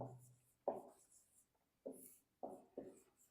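Handwriting with a pen on paper as a definition is written out: several short scratchy bursts of pen strokes with brief pauses between them, close and quiet.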